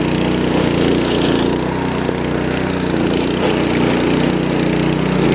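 A lawn scarifier working across dry, straw-like grass with its flap down, giving a steady, loud engine drone with a rough, scratchy roar from the blades raking the thatch, unbroken for the whole stretch.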